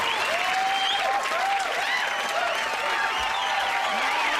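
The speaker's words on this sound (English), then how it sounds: "I'm gonna make this applause break even longer." Steady applause from a large crowd, dense clapping with a few whoops and cheers rising above it, continuing without a break throughout.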